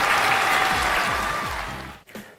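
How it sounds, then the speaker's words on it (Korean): Applause from a children's church audience at a toddler worship service, steady dense clapping filling the space for about two seconds before cutting off abruptly. "박수!"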